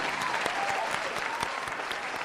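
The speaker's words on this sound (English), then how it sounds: "One more big round of applause for them this evening." A room full of people at an awards gathering gives a steady round of applause, dense overlapping claps at moderate distance with no voices over it.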